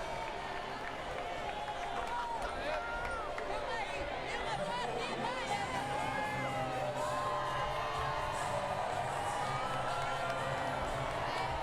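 Crowd cheering and whooping at a Paralympic judo match in Rio, a sustained roar of many voices with shouts and excited chatter rising and falling throughout.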